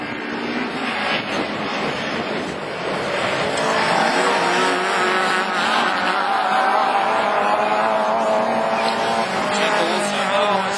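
Rallycross race cars compete on the new Châteauroux circuit during a French championship round, their engines roaring and revving loudly and continuously, with tires squealing and a commentator talking over the action.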